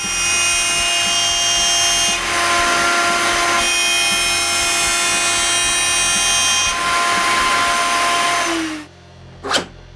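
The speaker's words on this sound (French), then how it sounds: "De l'autre côté, je perce un trou pour une bolt." A power drill bores a hole for a bolt through wood in a woodworking shop. The loud, steady high whine runs close for about nine seconds with slight dips, then winds down and stops, followed by a brief knock.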